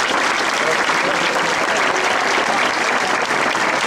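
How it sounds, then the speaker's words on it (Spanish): A crowd gives loud, sustained applause for street parade participants at a circus event, dense clapping filling the whole stretch without pause. "Vamos a dar un fuerte aplauso a todos y cada uno de los participantes del pasacalle."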